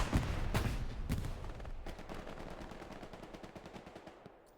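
Hell Let Loose gunfire during a competitive match: a few heavy close shots, then sustained rapid automatic bursts and a distant battlefield fusillade, fairly faint overall and without talking.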